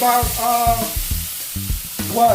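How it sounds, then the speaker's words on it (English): Beef searing in about three teaspoons of vegetable oil in a big pot, giving a loud, continuous sizzle with some tonal ringing and no talking. "let me go ahead and sear this one"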